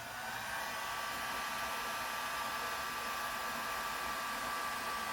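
A heat gun shrinking heat-shrink tubing over a solder connection while installing the original radio in a 1982 Mercedes 300SD, a steady breathy whoosh of hot air that starts abruptly and stays constant and close.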